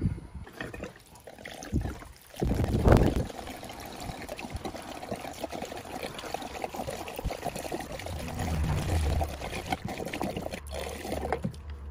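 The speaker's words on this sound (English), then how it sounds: "fill the system probably 3/4 of the way with diesel fuel" Diesel fuel being poured into the system of a 1943 John Deere B tractor, a steady trickling liquid stream lasting several seconds with a brief splashy surge early on, fairly close.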